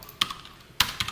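A few sharp key clicks as JavaScript code is typed on a computer keyboard during a coding lesson, two louder taps standing out among fainter ones in a quiet room.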